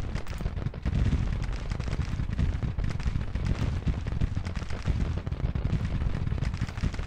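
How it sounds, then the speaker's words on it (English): Battle noise from a Civil War strategy game, with artillery including 24-pounders and rifle volleys from Mississippi rifles, forms a dense, continuous roar of overlapping booms and cracks and no talking. "They're firing."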